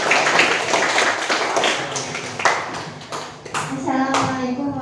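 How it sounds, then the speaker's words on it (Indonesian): A classroom group applauds another group of students, brisk hand clapping from many people filling the room for a few seconds, with voices speaking over it. "Beri aplaus untuk kelompok 3 yang sudah pemberani kedua."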